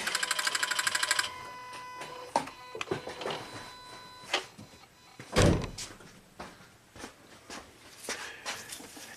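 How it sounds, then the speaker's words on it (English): On a Subaru 2.5 SOHC engine, the starter motor is bumped to crank it while a breaker bar holds the crank bolt. A rapid mechanical chatter is followed by scattered clunks and a loud thunk, with no speech. "I'm just gonna bump the starter"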